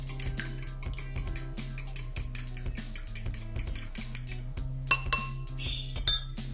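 A spoon clinks rhythmically against a bowl as wet corndog batter is mixed with milk for beer corndogs, a quick run of close, light taps that grow busier toward the end.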